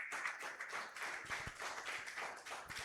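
A church congregation applauding loudly and joyfully together, a dense, steady wash of many hands clapping at a distance with no voices rising above it.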